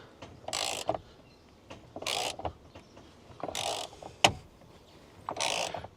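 A bolt is ratcheted back in to seat a carbon fiber steering wheel on a Ram 1500 pickup, heard as four short mechanical whirring bursts with a sharp click between them, close and moderately quiet.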